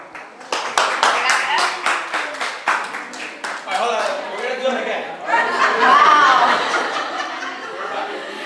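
An audience at a mortgage and realtor event applauds with sharp bursts of clapping, mixed with chuckles, laughter and chatter from the crowd, and voices talking throughout.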